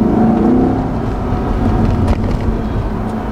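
A 2020 Chevrolet Corvette Stingray 1LT convertible with a mid-engine layout and stock exhaust accelerates hard in the lower gears, a loud, close, continuous engine roar rising in pitch with no talking.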